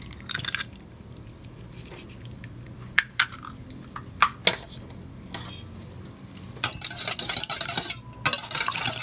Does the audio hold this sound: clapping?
no